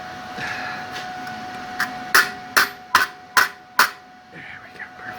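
Six sharp metallic hammer strikes on a welded aluminum engine block ring out in a quick, uneven series, close and loud, over a low steady hum.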